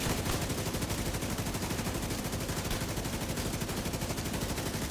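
A legendary-build LMG fires continuously in The Division 2, a dense, unbroken rapid stream of loud shots with no pauses, heavily saturated and constant throughout.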